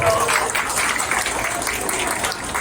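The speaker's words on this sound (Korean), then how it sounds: "박수 부탁드립니다" A crowd at a village festival's opening ceremony outside a church applauds steadily, a dense, even wash of clapping from many people that holds for the full few seconds without pause.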